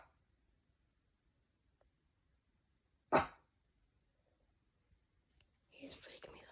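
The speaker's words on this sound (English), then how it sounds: "Here is a video of him barking." A single sharp dog bark rings out loud in an otherwise quiet room, followed after a pause by a short burst of muffled noise or low voices.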